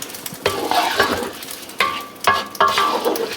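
Stock poured little by little into a sizzling pan and stirred while cooking sides for pork chops: bursts of hiss and scraping strokes come in uneven pulses, with a few light metallic clinks, close and fairly loud.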